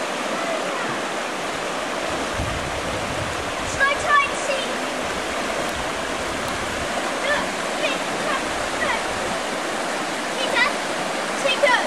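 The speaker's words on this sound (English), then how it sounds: "At Claver Bridge, the flow of the river is greater still." The River Nairn rushes past at Claver Bridge over a sandstone riverbed, a steady, loud broadband roar of flowing water that continues throughout with small splashing surges.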